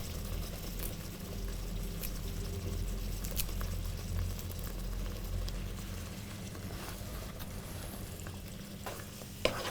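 Soya biryani being mixed in a pot with fried brown onion and coriander leaves, a steady soft stirring and faint sizzle with occasional light scrapes, close and continuous, no talking.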